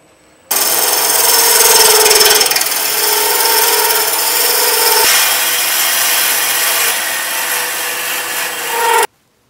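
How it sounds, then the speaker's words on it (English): Skew chisel taking a peeling cut on a wood lathe, shaping a turned egg or weed pot: a steady, close, continuous shaving hiss about nine seconds long with a slight dip midway, and no one talking. "I'm going to just use a very simple peeling cut to do that"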